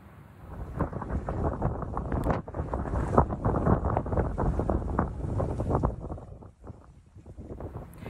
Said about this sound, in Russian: Порывы ветра в регионе достигают 200 километров в час.